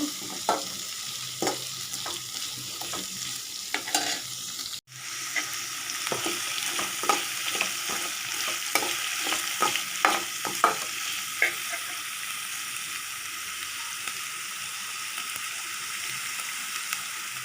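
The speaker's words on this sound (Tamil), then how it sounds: "அடுத்தது நம்ம வெங்காயம் போட்டுக்கலாங்க. நல்லா வதங்கணுங்க" Onions sautéing in a pan, a continuous sizzle broken by repeated scraping and clicking strokes of a stirring spoon, with a sudden loud knock near the middle.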